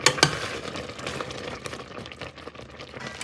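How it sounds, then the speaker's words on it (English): A spoon stirring nectarine jam with sugar in a cooking pot, giving soft, continuous scraping and bubbling, with a couple of sharper clinks at the start, fairly quiet and close. "you want to come back in with your spoon and stir it to make sure it's not sticking"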